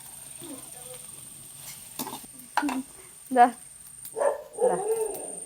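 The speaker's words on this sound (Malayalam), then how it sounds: "പപ്പു ബഹളം വയ്ക്കുന്നത് എന്താണെന്നറിയോ? വല്ല നായ്ക്കൾ അതിന് പോയിട്ടുണ്ടാവും കേട്ടോ." A dog barks in several short bursts, close by, while people talk over it.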